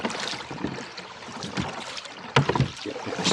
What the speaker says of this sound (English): but rowing backwards is a noisy proposition